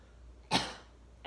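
A single short, breathy cough sounds close by in a quiet room during an abdominal exercise, followed by a brief faint sound at the very end.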